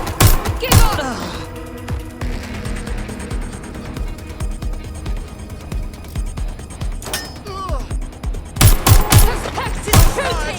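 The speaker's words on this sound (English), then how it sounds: "Suspect is shooting! Shots fired!" Gunfire breaks out in the video game Watch Dogs Legion, with sharp shots clustered at the start and again near the end over a busy bed of game sound and music, and voices shouting at times.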